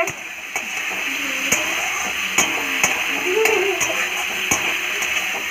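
Onion, tomato, green chili and ginger sautéing in a pan, a steady sizzle punctuated by regular sharp ticks and clacks of stirring, moderately close.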